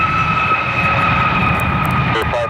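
A steady, loud jet airliner engine drone with a constant high whine, close and continuous, heard while plane spotting near an airport, and a faint voice briefly audible near the end.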